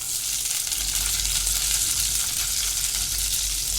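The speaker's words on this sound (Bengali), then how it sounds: "একটা তেজপাতা ফোড়নে দিচ্ছি" A bay leaf dropped into hot oil for tempering hisses and sizzles in a pan, a steady, loud, even frying crackle with no voices.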